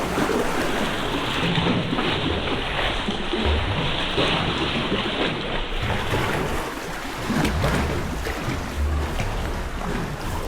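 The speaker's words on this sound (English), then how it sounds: "Oh, splash." Choppy Lake Superior water around kayaks crossing to the Sand Island sea caves in big waves, constant loud sloshing and splashing with gusting wind noise across the microphone throughout.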